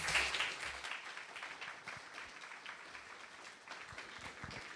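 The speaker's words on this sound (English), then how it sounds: "you can give everyone a preliminary clap" A church congregation claps during a Sunday service, a dense, steady round of applause that is loudest at the start and then holds evenly for several seconds.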